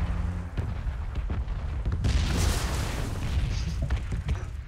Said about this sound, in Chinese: 在轰炸区啊！